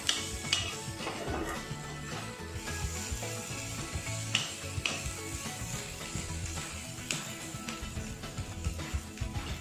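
Onions sizzle steadily in a pan with tomatoes to follow, a soft continuous frying hiss broken by occasional spoon scrapes and clinks against the cookware, with no talking.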